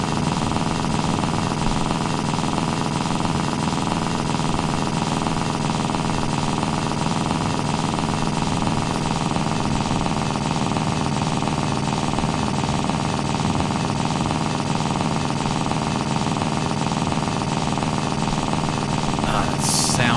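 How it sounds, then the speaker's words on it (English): A tiny vehicle engine strains uphill in The Long Drive video game, giving a loud, steady drone that holds unbroken throughout with no pauses or voices. "Then again, this is a tiny engine."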